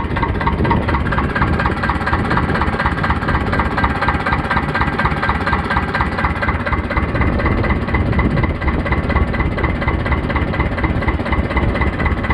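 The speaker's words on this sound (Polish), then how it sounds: "Traktor chodzi prawidłowo." A T25 Vladimirets tractor engine runs steadily at idle, a loud continuous diesel chug with constant vibration and no break for the whole stretch.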